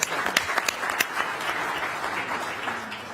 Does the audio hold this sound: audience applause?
yes